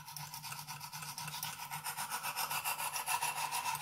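A knife blade stroked back and forth along a Lansky sharpening stone makes a steady, rhythmic rasping, each pass a short scrape, close and fairly quiet, with no voices.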